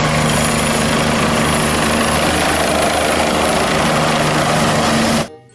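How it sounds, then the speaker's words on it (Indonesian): A toy helicopter sound effect gives a loud, steady whirring rotor drone for about five seconds before it stops abruptly. "Helikopter teman-teman."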